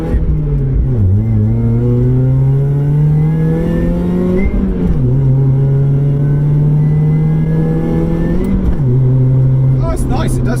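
A supercharged Mazda MX-5 engine drones loudly from inside the car as it accelerates, pitch climbing through each gear and dipping at three distinct shifts, with a voice talking over it.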